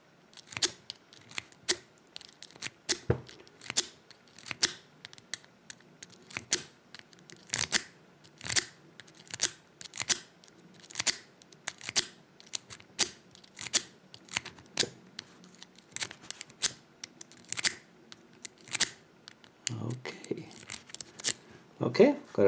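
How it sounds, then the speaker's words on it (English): Lock picking on a large Pfaffenhain lock with a DeForest half diamond pick, raking into a false set: a steady run of sharp metallic clicks and scrapes at close range, fairly regular, with a brief rustle near the end. "I use a deforest half diamond to zip into a false set first, and then I try to pick the spool."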